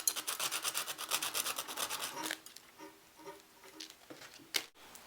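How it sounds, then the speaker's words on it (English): Sandpaper rubbed over a rough spot on a manipulated wall sculpture: quick, rhythmic rasping strokes, close and fairly quiet, giving way after a couple of seconds to softer, scattered scraping and a few light taps. "Just have to take a wee bit of sandpaper to that rough spot there."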